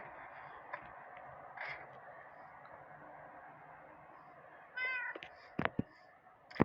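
A faint, steady background hum, then a single short video-game cat meow near the end followed by a few clicks and taps.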